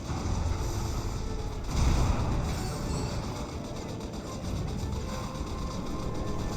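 Video game explosions as a super reactor is destroyed in a real-time strategy match, a dense rumbling barrage of booms that swells near the two-second mark and then rolls on steadily without pause.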